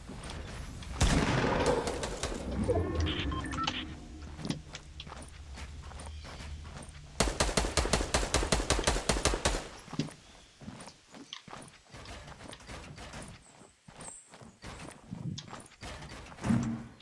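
Gunfire in the video game Fortnite comes as rapid bursts of shots, one dense volley early and another around the middle, mixed with game footsteps and other effects at moderate loudness.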